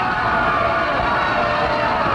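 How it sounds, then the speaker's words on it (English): Wrestling arena crowd roaring and cheering after a tag team match win, a loud, steady wash of massed voices without pause. "And the crowd goes nuts."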